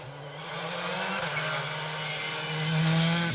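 A Citroen rally car runs along an asphalt rally stage in Ceredigion, its engine drone growing gradually louder and rising in pitch as it approaches, alone and moderately distant.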